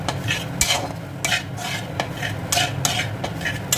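A spoon scrapes and stirs crumbled dal filling with crushed fried chilies in a pan for Mughlai paratha, making repeated quick, close strokes over a light sizzle.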